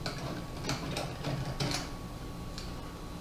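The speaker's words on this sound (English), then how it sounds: "We're going to remove these two bolts right here, which are actually holding the license plate in place." Bolts holding the license plate on a Kawasaki Ninja 300 are worked loose with a ratcheting tool, giving a few quick, faint clicks and ticks close by over a quiet background.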